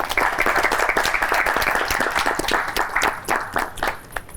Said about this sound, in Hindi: तो तालियां बजा लें अपने लिए।